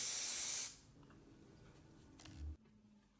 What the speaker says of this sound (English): I'm using spray adhesive to glue these onto the boards